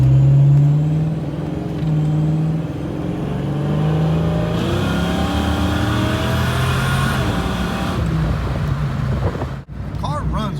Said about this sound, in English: The car runs great. Like, it pulls hard, but I think the belt's still slipping.